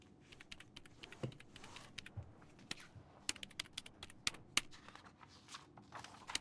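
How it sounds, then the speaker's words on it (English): In the video game Broken Sword 2.5, a librarian types on a computer keyboard. Quick, uneven clicks and clatters come close and clear, with short pauses between the bursts, and no one speaks. "The librarian is torturing her keyboard."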